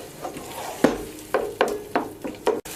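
Tomatoes and tomato paste are frying in a pan with sautéed onion and pepper, giving a quiet steady sizzle broken by several soft scraping stirs of a spoon.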